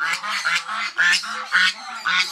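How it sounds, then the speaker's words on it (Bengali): Domestic geese honk repeatedly as they come closer, a loud, close run of nasal calls in steady bursts with short gaps between them. "হাঁসগুলো চলে আসছে, আমাদের রাজহাঁসগুলো কিন্তু বাচ্চাগুলো অনেক বড় হয়ে গেছে"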